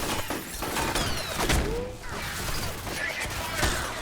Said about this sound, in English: I mean, they're shooting.